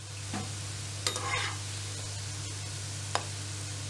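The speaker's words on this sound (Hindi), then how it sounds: "इन्हें फ्राई करना है गोल्डन कलर आने तक" Chicken balls frying in oil, a faint steady sizzle under a low hum, with a few quick spoon clicks as they are turned, no talking.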